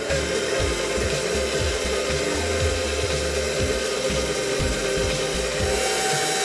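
A large spoon stirs homemade pound cake batter with a steady run of soft, rhythmic scraping strokes against the bowl. The strokes sit close and alone, with no talking.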